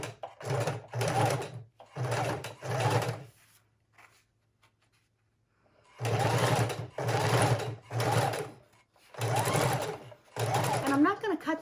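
A sewing machine stitches ribbon onto a junk journal page, running in several loud buzzing bursts with a quiet pause between them.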